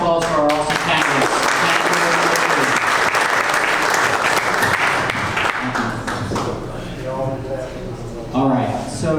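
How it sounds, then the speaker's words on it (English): A room of attendees applauds candidates at a county candidate forum, a loud sustained burst of clapping that fades toward the end as a voice speaks over it. "Another round of applause for our awesome candidates."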